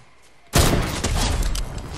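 A sudden loud burst of gunfire in Fortnite cuts in after a quiet half second, then a dense, close rattle of shots carries on to the end.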